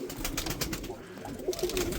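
Old-breed Mardin pigeons coo softly and repeatedly nearby, a low burbling murmur that carries through the whole moment with no voices over it.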